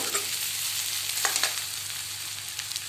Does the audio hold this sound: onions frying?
yes